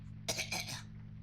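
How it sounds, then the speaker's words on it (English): A short burst of coughing or throat clearing from a character in the Chinese horror game likened to Fear and Hunger, heard once, close, over a steady low hum with no talk. "Coughing sound."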